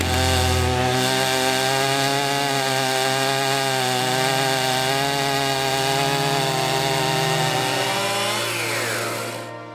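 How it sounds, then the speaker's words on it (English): A chainsaw fitted with a mini mill jig cuts timber for canoe building, running loud and steady for about ten seconds under a constant rough buzzing drone that eases off at the end. "There's a jig that sits on the chainsaw called a mini mill, and they usually use it for square cuts for timber."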